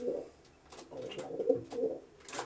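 Racing pigeons inside a loft coo softly in several low, rolling calls that overlap and return at intervals, heard nearby against a quiet background.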